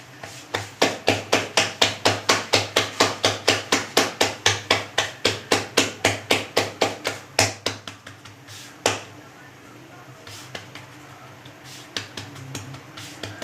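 Bhakri flatbread dough being patted flat by hand, a rapid, steady run of close, sharp slaps that slows and fades into quieter scattered pats.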